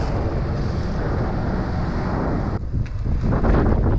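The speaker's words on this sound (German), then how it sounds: "Auf der westlichen Seite am nördlichen Gipfel von Rhodos bläst der Wind ganz ordentlich." Strong wind buffeting a microphone on the northwestern tip of Rhodes, a loud, steady low roar with gusty rumble throughout, briefly dipping before surging back, with no voices.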